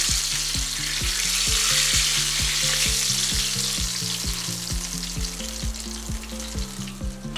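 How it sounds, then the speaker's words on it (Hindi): Loud, steady sizzling and crackling of hot tempering oil poured over masoor lentils, close up, with occasional clinks of a utensil against a pan. "अब ये तड़का हम अपनी दाल के ऊपर डाल देते हैं इस तरह।"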